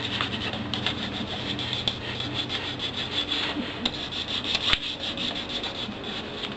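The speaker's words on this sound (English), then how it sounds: "what you want to do after that is go ahead and wipe them all dry" Cloth steadily rubbing and wiping Daisy 880 air rifle parts dry, a close, continuous scratchy friction with no talking.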